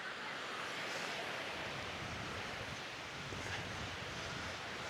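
Ocean waves wash at a beach near Venice, Italy, a soft continuous surf hiss mixed with wind buffeting the microphone, fairly faint and steady with no talk.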